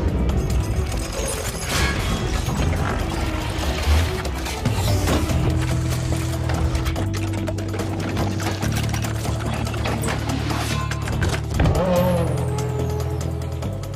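A Red Bull Racing Formula 1 car drives past with engine tones rising and shifting, tire noise and sharp transient bangs, loud and close without any talk.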